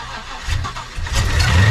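A car's replacement engine cranks and fires up at close range, the starter churning briefly before the motor catches and revs into a loud, rising rumble.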